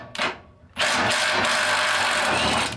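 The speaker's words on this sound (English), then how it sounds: "So now all we got to do is take the 2 bolts out from the bottom." Power tool loosening the bolts under the hitch area of a 2023 Chevrolet Colorado / GMC Canyon pickup, a short burst followed by a longer sustained whirring run, close and loud.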